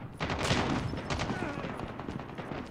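Rapid gunfire from Call of Duty Mobile gun game, dense bursts of shots filling the whole stretch at close range, with a voice talking over the shooting.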